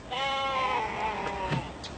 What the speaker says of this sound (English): Sarah, I think that goat's just found its dinner.